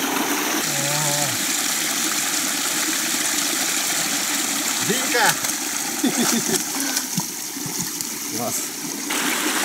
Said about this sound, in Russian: И сейчас мы ее помоем в ручейке, который бежит прямо с горы.